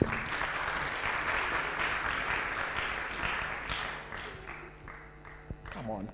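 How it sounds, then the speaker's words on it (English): An audience at a tech talk and web development graduation claps to welcome a speaker, with steady clapping that thins and fades under overlapping talk and a few thumps. "let's put our hands together as we welcome Eunice"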